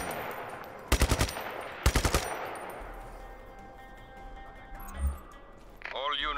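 Gunfire in the video game Just Cause 3: two short bursts of rapid automatic shots about a second apart, loud and close, then a low rumble, a dull thump and a voice speaking at the end.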